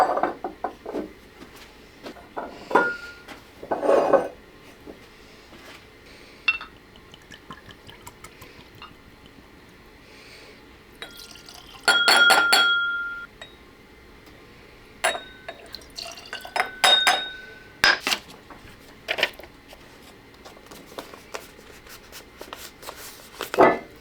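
Single barrel bourbon poured into glasses at a tasting: clinking glass and trickling liquid come in short bursts, with quiet gaps between the pours.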